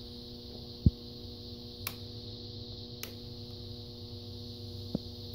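Steady electrical hum from a high-pressure sodium lamp ballast with a buzzy overtone from dimming, interrupted by a few sharp isolated clicks and taps spaced irregularly.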